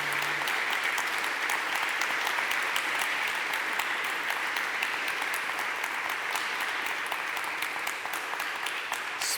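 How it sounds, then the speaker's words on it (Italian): Sustained audience applause following a speech at a talk on the Kurdish question in Erdoğan's Turkey, a dense steady clapping that fills the whole stretch at an even loudness with no speech over it. "Spero, Zera, che tu abbia potuto sentire gli applausi che ti sono arrivati alla fine del tuo intervento"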